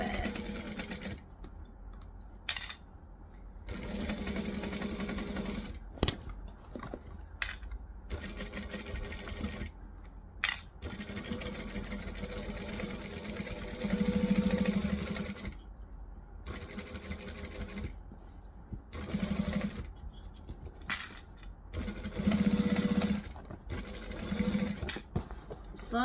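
A sewing machine stitches a seam around the top of a Nora bag in short, faint, rapid runs broken by frequent pauses while the fabric is lifted and turned.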